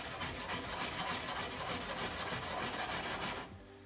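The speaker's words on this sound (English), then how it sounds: "Give the bottom of the pan a little bit of a scrape." A utensil scrapes steadily and close across the bottom of a pan deglazed with wine while pork kavarma cooks in a traditional clay pot, a continuous rhythmic rubbing that stops abruptly near the end.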